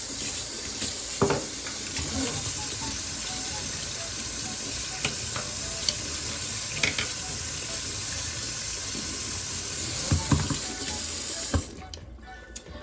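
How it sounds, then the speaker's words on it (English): A paint brush is rinsed under a running tap into a sink with lukewarm water, a steady broadband splash and hiss lasting about eleven seconds with a few brief louder spatters, then cutting off abruptly as the water stops. "I'm rinsing with kind of a lukewarm water"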